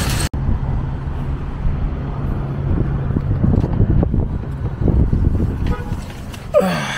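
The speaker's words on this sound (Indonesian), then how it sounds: "Gila angin di luar guys. Kencang kali lah ya." Strong wind blowing outdoors in autumn, a steady loud rumbling roar buffeting the microphone throughout, with gusts swelling and a brief passing vehicle sound near the end.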